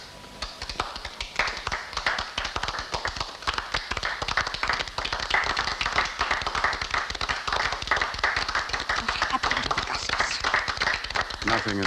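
Continuous, dense clapping from a group in a 1968 Roman court drama, steady and fairly close throughout, with some voices blended in underneath.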